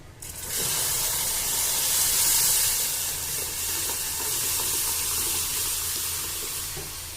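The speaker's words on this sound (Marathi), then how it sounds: "तर यामध्ये आपली ही डाळ टाकून द्यायची।" Cooked dal poured into a hot pan with spinach for Marathi-style palak varan sets off a loud, steady sizzling hiss that swells after the first half-second and holds nearly unchanged, close up and with no voices.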